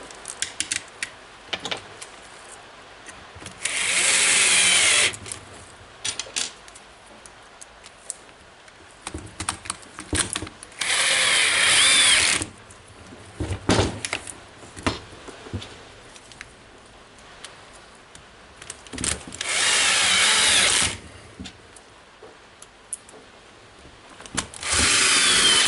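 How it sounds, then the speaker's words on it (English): A power tool drives screws while a Makita HR2611FT rotary hammer is reassembled, with three loud whirring bursts of a few seconds each separated by quieter clicks and handling noise. "tightening the screws."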